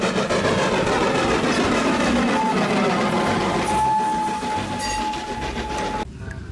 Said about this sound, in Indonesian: Wehehe, ada kereta Thomas.